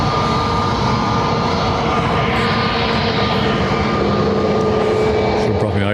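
Jet airliner engines roaring steadily at Lanzarote Airport, likely an Aer Lingus plane, a loud continuous rumble throughout with faint voices underneath.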